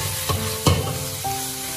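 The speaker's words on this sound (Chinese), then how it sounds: "包菜下锅之后再转大火快速的翻炒" Shredded cabbage and minced meat stir-fry over high heat in a wok: a loud continuous sizzle broken by two or three sharp scraping tosses of a spatula, close and without voices.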